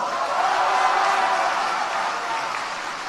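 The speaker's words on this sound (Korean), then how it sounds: "기왕 박수 치시려면 세게 한번 쳐주십시오." A crowd at a Korean political speech gives dense, sustained applause that sounds like a wash of steady noise, slowly tapering over a few seconds.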